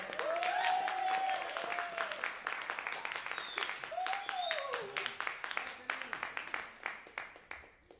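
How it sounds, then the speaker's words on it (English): Audience applause for a guitarist at a vocal showcase, starting full and thinning into scattered individual claps toward the end, with voices and cheers mixed in. "A round of applause for my lovely friend Vinny on guitar."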